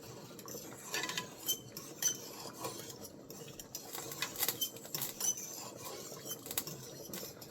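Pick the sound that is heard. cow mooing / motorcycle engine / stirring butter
stirring butter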